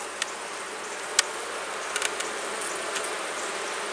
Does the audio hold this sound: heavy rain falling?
no